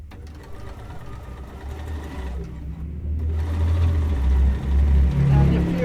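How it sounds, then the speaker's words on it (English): A Bernina 480 sewing machine stitches a quilt block with a steady low mechanical whir that picks up speed toward the end, close and fairly loud, with a voice speaking briefly over it. "I am sewing on a Bernina 480 today."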